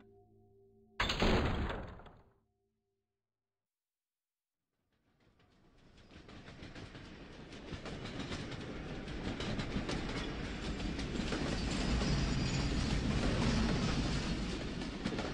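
A train in the Skolios video game gives a brief clunk, then after a pause rumbles in and runs steadily, a loud sustained rolling clatter that builds and holds to the end.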